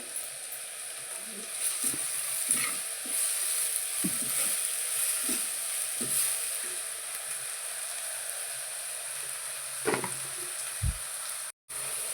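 Onions sautéing with rock salt in a pan give a steady hiss and crackle, broken by occasional spoon knocks and scrapes against the pan.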